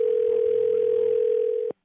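A telephone ringback tone plays on an outgoing cold call to a homeowner about a property. It is one steady, continuous electronic tone lasting almost two seconds and cutting off abruptly, with no talk over it.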